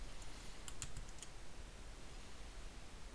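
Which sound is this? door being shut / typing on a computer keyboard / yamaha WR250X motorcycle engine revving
typing on a computer keyboard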